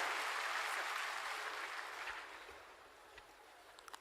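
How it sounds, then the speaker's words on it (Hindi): Applause from an assembled audience at a Ravidas Jayanti government function, greeting the Chief Minister's principal secretary; dense sustained clapping that gradually thins and fades over about four seconds. "जोरदार तालियों से सर का स्वागत करें"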